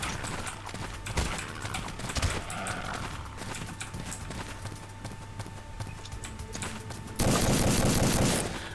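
Gunfire in the video game Code Name: CURE, with dual pistols in play, rapid sharp shots in bursts over game noise, ending in a dense loud barrage, no talking.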